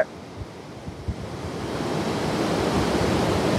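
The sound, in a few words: water rushing from dam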